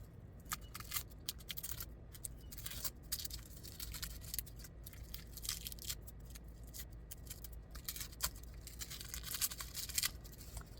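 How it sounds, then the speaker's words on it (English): Papery skin of a big garlic clove peeled open by hand, with soft close crackles, tears and crinkles coming in irregular bursts over a quiet room, and no talking. "the cloves are kind of big, so we're just gonna peel this open."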